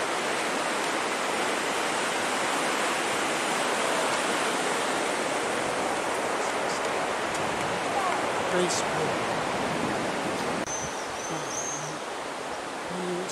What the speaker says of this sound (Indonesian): ini sungai, terus ada jembatannya